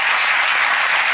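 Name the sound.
audience applause at a magic performance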